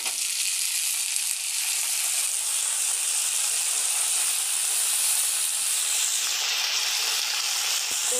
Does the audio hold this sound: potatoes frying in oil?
yes